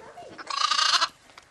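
Pygmy goats bleat during a goat pilates class on a farm in Scotland, a single close, wavering bleat lasting about half a second with faint background murmur around it.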